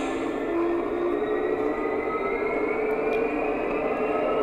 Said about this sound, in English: What it means is I can rev the loco up without going anywhere.